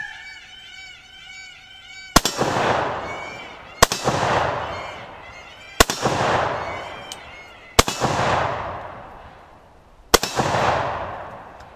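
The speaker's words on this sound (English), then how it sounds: "Well, fired those 5 rounds pretty damn decently." An AK-47 rifle fires five sharp, loud rounds at roughly two-second intervals, each crack followed by a booming outdoor echo that trails off before the next shot; a brief tonal honk-like sound precedes the first shot.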